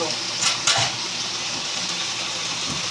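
Wild bitter gourd leaves hit hot oil in a wok and sizzle steadily and loudly, with a few stirring clatters near the start.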